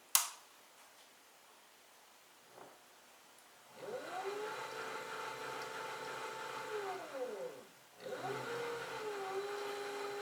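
A Speedball Artista tabletop pottery wheel spins up to a steady motor whine, winds down briefly, then spins up again. The near whirring hum holds a constant pitch between the ramps, with no talk.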